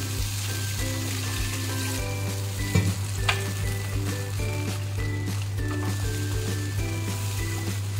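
Water is poured into a pan of cooked mango and snakehead fish curry, and a strong continuous sizzle and bubbling follows with occasional stirring clinks, close and steady.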